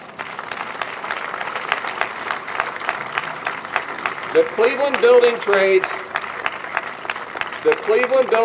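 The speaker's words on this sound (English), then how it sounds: "Give them a round of applause." An audience at the opening of a new administrative headquarters breaks into sustained applause, dense clapping throughout while someone speaks over it.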